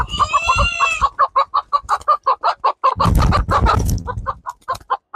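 Silkie chickens and a rooster cluck up close in a rapid, rhythmic series of loud clucks, with a brief crow-like call at the start and a burst of louder squawking partway through.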